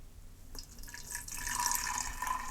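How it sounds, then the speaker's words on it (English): Homemade almond milk pours into a container, a soft trickling, splashing stream that starts after a quiet moment and then runs steadily, close by, with no talking. "now we can take the almond milk and pour it into our container"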